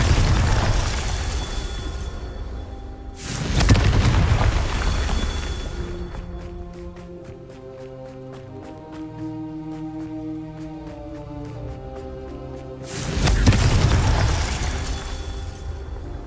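Confringo blast spells exploding in the video game Hogwarts Legacy, two loud booming bursts separated by a stretch of tonal game music, each blast rumbling for about a second or more.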